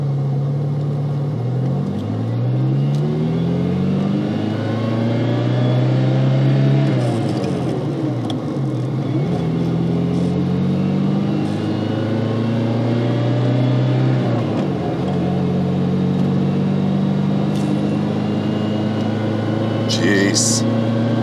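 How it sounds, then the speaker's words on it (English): A 1989 red Ferrari 328 GTB pulls away and accelerates, its engine note climbing in rising sweeps through several gear changes, close and steady, with someone talking over the engine. "clutch is in, first gear, off we go."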